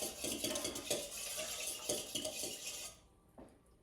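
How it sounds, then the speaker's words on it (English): A fork briskly beats eggs in a bowl for challah dough, rapid clinking and scraping of metal against the dish, close up, stopping abruptly before one last soft tap. "And I'm mixing them in. I'm just using a fork, but you can use a whisk."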